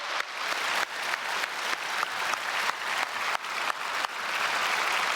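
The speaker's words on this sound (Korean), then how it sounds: "박수하겠습니다." A church congregation at an early-morning special service claps in a steady, rhythmic beat, with regular pulses of many hands striking together in unison under a constant wash of applause.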